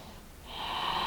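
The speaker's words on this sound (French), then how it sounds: "Continuez à utiliser votre respiration Ujjayi, elle va apaiser votre mental" Ujjayi breath during an Ashtanga vinyasa yoga practice, a steady, close hissing exhale with ocean-like throat friction that swells and holds through the latter part, alone without talk.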